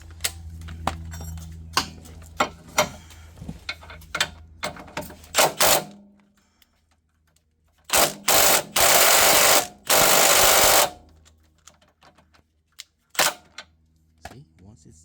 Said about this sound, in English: I got an electric gun.